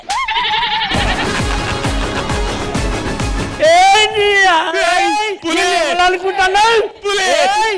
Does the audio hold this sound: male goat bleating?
yes